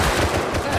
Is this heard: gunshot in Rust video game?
yes